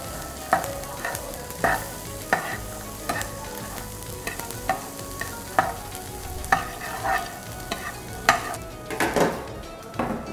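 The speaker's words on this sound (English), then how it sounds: "We will add 1 tablespoon olive oil here. Now we will cook it for 2 minutes." Food cooks in a tablespoon of olive oil in a pan for a healthy protein dish, with steady sizzling and frying and repeated stirring scrapes at an even rhythm, close and clear, with no voices.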